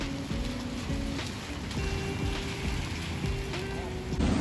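Steady rain falls on a surface at evening, a close, continuous patter with a few scattered drops standing out, mixed with faint background noise and no clear talking.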